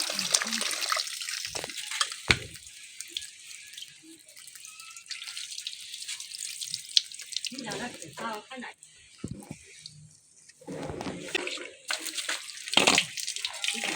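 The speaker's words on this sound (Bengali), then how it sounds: "এখন আমি লবণ দিয়ে মাছগুলো ভালোভাবে ধুয়ে নিতেছি" Small fish are rubbed with salt and rinsed in water, giving irregular splashes, swishes and trickles at close range, with a voice talking over parts of it.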